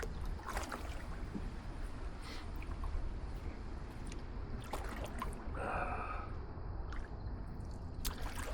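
Small boat being paddled on water, with soft splashes and drips from the paddle over a steady outdoor wash, faint and close, with no talk.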